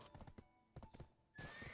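A horse in the video game Black Desert gallops with a few quick hoof clops, then neighs once, loud and close.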